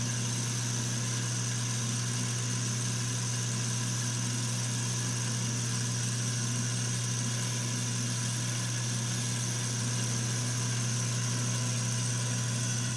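Wood lathe spinning a hard maple top, a steady, even motor hum with a constant tonal drone, holding at the same loudness throughout with no talk over it.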